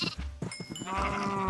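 Sheep bleating in the Minecraft video game, a short wavering baa rising clearly after a few soft thumps, close and fairly loud with no talking over it.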